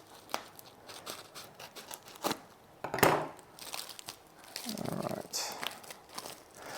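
Foil and plastic cling wrap around a variegated plant are torn and crinkled up close in a run of irregular rips and rustles, quiet overall with a sharper tear in the middle.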